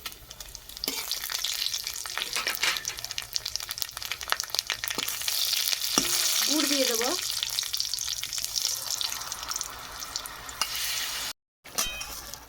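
Dried chillies, cardamom and black cumin fry in hot oil for an amla pickle, giving a steady close sizzle with a few clinks and stirring scrapes, no voices.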